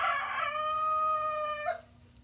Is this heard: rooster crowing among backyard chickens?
yes